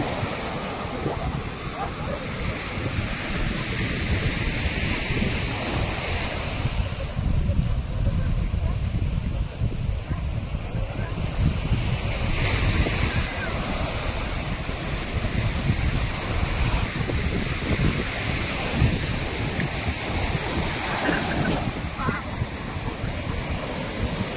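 Ocean surf at Vadanappally Beach in Kerala keeps up a continuous, loud roar of breaking waves, with surges swelling and easing and wind buffeting the microphone throughout.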